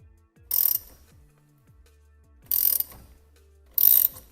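Ratcheting wrench loosening the center nut on a 1979 Ford Bronco steering wheel, torqued to 45 foot-pounds: three short bursts of rapid clicking close by, separated by quiet pauses and faint handling noise.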